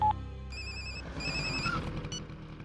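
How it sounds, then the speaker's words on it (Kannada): A telephone rings in short bursts of bright electronic tones, fairly faint and set over low background sound, with no one answering. "ಫೋನ್ ರಿಂಗ್ ಆಗ್ತಿದೆ, ರಿಸೀವ್ ಮಾಡ್ತಿಲ್ಲ"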